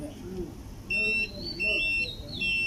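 Intermittent high-pitched beeps from a multimeter continuity test on a DC-to-DC converter, three steady tones of about a second each, sounding over quiet background noise and faint murmuring.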